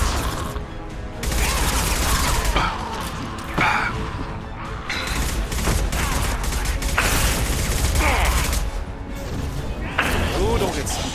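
Loud, dense gunfire and crashing impacts from a firefight in the sci-fi game Mass Effect 2, with sustained bursts and game voices heard under the action.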